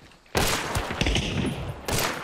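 A dense burst of rapid gunfire from the video game Hunt: Showdown erupts after a brief quiet moment, loud and continuous for over a second, then another volley starts near the end.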